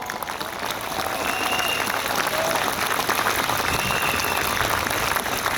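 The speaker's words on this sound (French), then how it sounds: "qu'on peut applaudir chaleureusement" Audience at a public gathering applauding the organisers and volunteers, a steady dense wash of clapping holding evenly for several seconds without pause.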